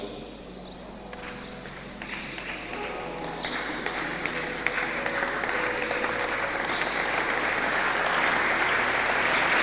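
A church audience applauds steadily throughout, the clapping swelling louder toward the end, with faint background tones beneath.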